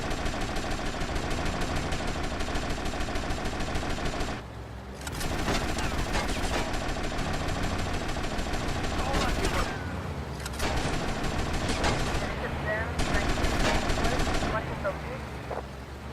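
Gunfire in GTA Vice City Remastered on PS5: long bursts of rapid automatic shooting, loud and dense, broken by brief pauses, with an engine running beneath.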